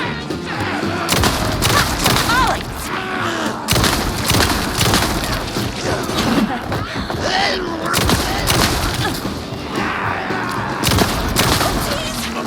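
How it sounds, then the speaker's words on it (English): Automatic shotgun in Alan Wake 2 firing heavy rapid blasts, a dense, loud barrage of booming shots with crashing impacts that continues almost without a break, while someone talks over it. "Shotgun's heavy fire? Yes! Automatic."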